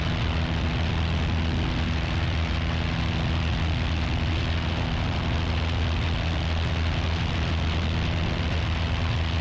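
A Piper Archer with a newly installed engine drones steadily in flight during a maintenance test over Hartford, a constant low propeller and engine hum heard from inside the cabin with no voices.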